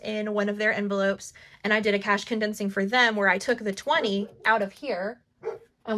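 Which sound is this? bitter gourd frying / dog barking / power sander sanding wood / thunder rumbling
dog barking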